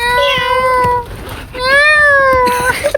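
A person imitates a cat with two whining, rising-and-falling meows close to the microphone, separated by a short breathy pause.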